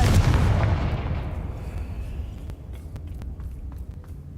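A Confringo spell from Hogwarts Legacy explodes with a loud, booming blast that fades slowly over several seconds, followed by faint scattered crackles and small impacts.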